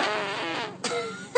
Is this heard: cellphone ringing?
no